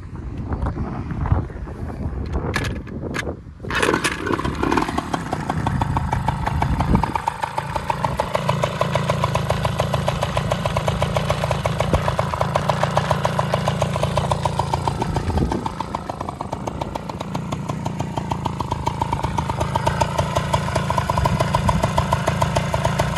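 Liquid-cooled two-stroke engine of a 1987 MBK FX50 enduro moped with a 103 variator, buzzing loudly and continuously close up after a brief start, revving and holding with wind buffeting the microphone.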